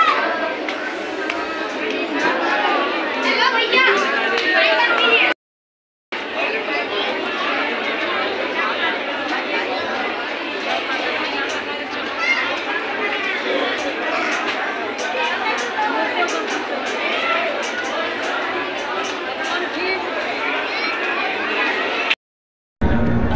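A large crowd of devotees at a Hindu temple gathering keeps up a constant dense chatter of many overlapping voices, loud and close, broken by two brief silent gaps.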